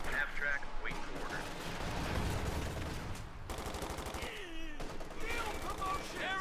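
Gunfire from infantry squads in Company of Heroes 2, a 1v1 match on the Coldcast map, with bursts of rifle and machine-gun fire over a continuous battle din, with someone commentating throughout.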